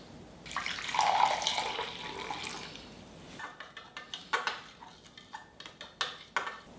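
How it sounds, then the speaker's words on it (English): Warm water pours steadily into a bowl for a couple of seconds, then a series of splashes, drips and light clinks follow, close and fairly quiet. "I'm gonna add 1 cup of warm water that I've heated to 110 degrees."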